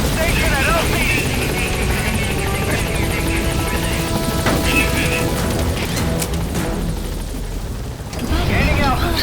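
A helicopter in Metal Gear Solid V: The Phantom Pain climbs and departs, its steady rotor roar loud and continuous throughout, briefly dipping near the end before swelling again, with a crash or impact mixed into the game audio.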